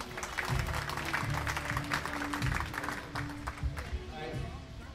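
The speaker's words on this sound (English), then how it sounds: "let's have a big round of applause for both of them" Applause from a wedding reception crowd, steady dense clapping throughout with some voices mixed in, fairly close and moderately loud.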